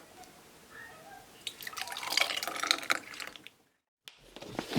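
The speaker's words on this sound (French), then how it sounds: "on verse la préparation dans des bocaux ou des verrines allant au four" Strawberry flan mixture poured into oven-safe glass jars, a close, wet trickling and dripping stream that swells, stops briefly, then resumes.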